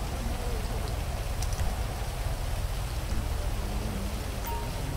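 Steady, dense rainfall in the video game GTA5 hisses evenly throughout, with a low rumble beneath and no voices.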